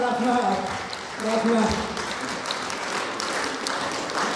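Concert audience at an anniversary show of a duo claps in a dense, steady wash of applause, while a voice speaks over it with rising and falling tones throughout.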